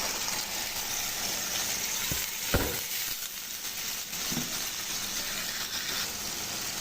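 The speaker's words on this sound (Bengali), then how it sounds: "এখন আমি শুটকিটা কিন্তু ঢেলে দিব" Dried loitta fish fries with chopped potatoes in a pan, giving a soft, constant sizzle broken by a few faint scrapes and one brief clunk partway through, with no voices.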